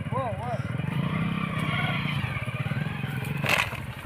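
A new motorcycle's engine idles nearby with a steady low throb while people talk over it.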